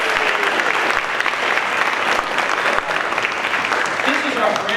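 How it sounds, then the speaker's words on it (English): Crowd applause at an outdoor Shakespeare in the Shade performance of Romeo and Juliet, greeting a team; sustained, loud clapping with scattered sharp claps and some voices mixed in throughout. "How about a round of applause for Mark Herman's team?"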